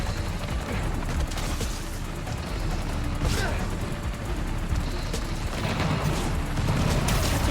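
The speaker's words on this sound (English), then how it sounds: "need to head toward the gunfire" Scattered gunfire rattles through a snowy blizzard scene in the Spider-Man Miles Morales video game, distant bursts and sharp cracks over a constant windy roar, moderately faint throughout.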